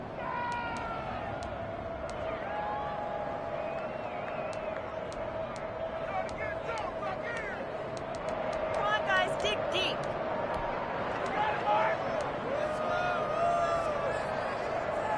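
A large American football stadium crowd roars and murmurs steadily during a two-point conversion attempt, swelling louder toward the end, with scattered shouts and whistles over a commentator's voice.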